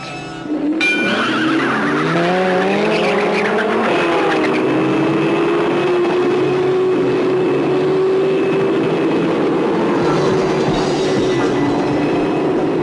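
Race cars roaring off in the film Death Race 2000, loud engines revving and whining as they accelerate, pitch climbing then holding steady in a dense sustained drone with tire noise, no talk.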